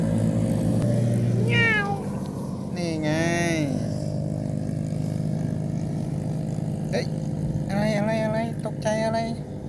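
A cat meows several times outdoors on a rural village road among rice fields, giving drawn-out, wavering cries, some rising and falling, close and clear. They sound over a steady engine-like rumble, with a person speaking at times.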